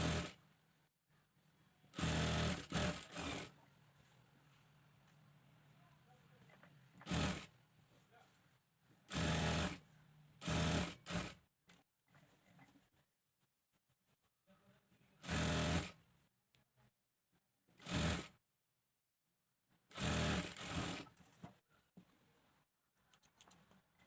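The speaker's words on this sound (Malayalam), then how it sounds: "ആദ്യം നമുക്കിതുപോലെ ലൈനിങ്ങും നല്ല പീസും കൂടി ഒരുമിച്ച് വെച്ച് ഇതുപോലെ ഒന്ന് സ്റ്റിച്ച് ചെയ്ത് കൊടുക്കാം." A sewing machine stitches lining and a fabric piece together in several short whirring bursts, each a few seconds long, separated by quiet pauses. The machine is close and moderately loud.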